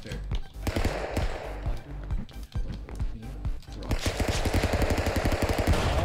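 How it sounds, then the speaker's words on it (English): Rapid bursts of gunfire from weapons in the Stick Fight video game, sharp repeated shots in quick automatic runs, loud and close, with players talking over the firing. "Oh, my gun was shooting."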